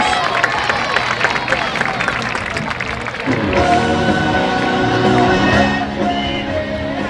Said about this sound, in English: Having a big round of applause for the Oxford High School cheerleaders.